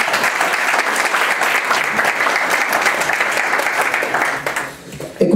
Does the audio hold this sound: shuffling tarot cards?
no